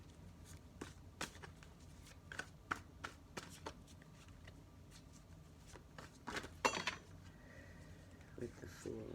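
Zombie tarot card deck being shuffled by hand, a series of quick riffling bursts and soft card slaps at close range, fairly quiet and irregular, with louder shuffles near the end.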